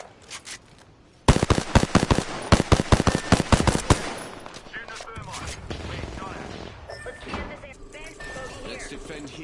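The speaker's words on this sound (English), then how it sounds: "Small bullet firing." A small gun fires in Apex Legends as a rapid burst of sharp, close shots, followed by quieter game ambience and a voice speaking.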